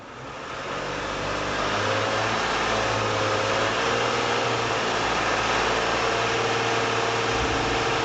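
A car engine rises from idle to a steady hold around 2,500 RPM, its continuous hum swelling over the first second and then staying loud and even, with no talking.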